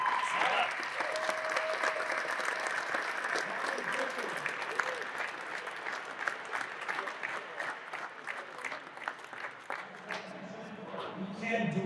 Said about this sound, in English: So I just want to give a round of applause to our team.